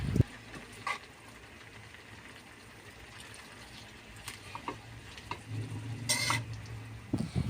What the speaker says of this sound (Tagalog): So of course ato siyang kayon para mamikos-mikos yung lami.